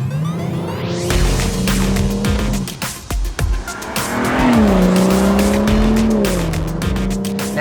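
A BMW M240 with a 3-litre inline-6 engine driven hard in sport mode: loud, close engine note rising and falling through the revs, with tyre squeal and a brief shift dip midway.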